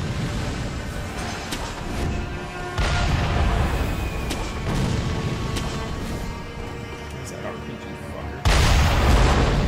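Booming rocket launcher blasts and explosions in the video game Sekiro, a few heavy hits, the loudest near the end, with talk over a dense, noisy game soundscape.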